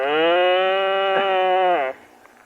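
Cattle in a field beside a redwood-country trail give one long, loud, close moo that holds steady for nearly two seconds and then cuts off, leaving quiet outdoor background.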